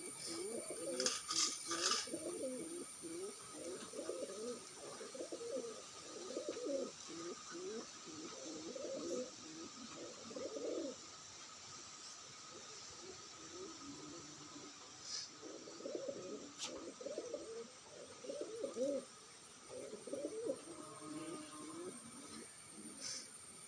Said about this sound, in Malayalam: നല്ല അടിപൊളിയായിട്ട് കുറുകൊക്കെ പൊട്ടിട്ടുണ്ട്